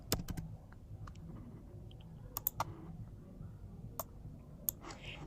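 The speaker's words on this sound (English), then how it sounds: "I'm going to click on T on my keyboard and I'm going to type hi" Quiet, sparse keyboard typing: a handful of crisp key clicks spaced irregularly over a faint background hum.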